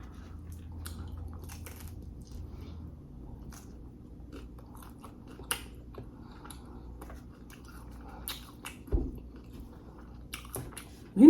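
Someone chews a chipotle chicken pizza topped with bacon, with soft close-up biting and mushy chewing sounds, a few crisp crunches, and quiet gaps between bites.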